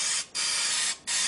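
Close hissing bursts from a pump oil sprayer misting chicken wings for an air fryer oven, two brief pauses breaking three sustained sprays.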